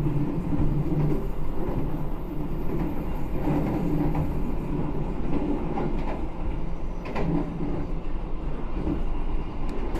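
Steady rumble of the Argo Semeru passenger train rolling along rails on the southern line from Surabaya to Jakarta, with a continuous low roar and faint rhythmic clatter throughout, no voices.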